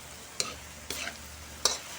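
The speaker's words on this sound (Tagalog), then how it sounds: "Haluin lang din natin." A spoon stirs sautéed chayote mixed with flaked fried galunggong fish in a sizzling pan, giving three short, distinct scraping strokes over a soft, constant frying hiss.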